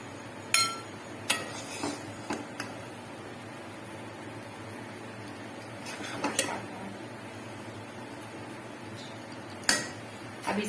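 Makhandi halwa being served from a pan with a spoon: scattered metallic clinks and scrapes of spoon against pan, a few sharp knocks and then quieter stretches between them.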